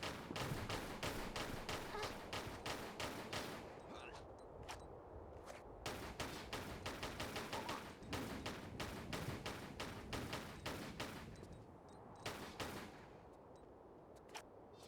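Rapid bursts of automatic fire from an enemy's Uzis in the Tomb Raider video game, a Temple of Karnak level, with dense repeated volleys broken by brief pauses, loud and close throughout.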